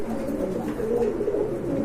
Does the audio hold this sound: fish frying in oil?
no